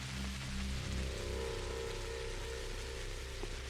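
Rain falling in the video game Pathologic, a steady, dense patter like drops on a hard surface, continuous and fairly soft throughout, with a low rumble underneath and no talking.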